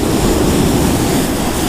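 Ocean surf on a Northern California beach, white water breaking steadily in a dense, continuous roar close by, with some wind noise on the microphone and no voices.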